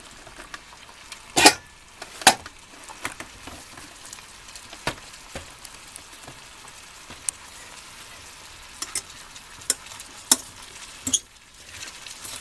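Chopped vegetables for a vegetable soup cook in a pot on the stove, giving a steady low sizzle with scattered sharp clicks and stirring knocks, fairly quiet and without talk.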